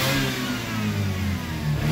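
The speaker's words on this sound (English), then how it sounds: "So now you can go ahead and just give it a quick rev down to the floor." A supercharged Mazda RX-8 engine with methanol injection revs hard in a quick, loud burst, rising and swelling with a throaty mid-range roar, with no voices.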